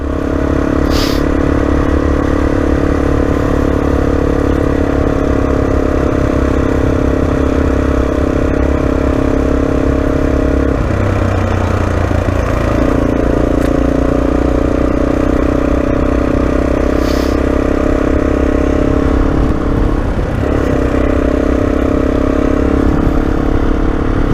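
A loaded adventure motorcycle drones loudly and continuously on a ride near Peterborough. The engine note shifts briefly around gear changes, and wind and road noise run throughout.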